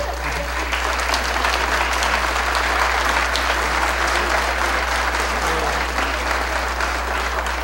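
A crowd at a public safety meeting applauds, a dense, continuous wash of clapping over a low electrical hum, steady and fairly loud for several seconds with faint voices underneath.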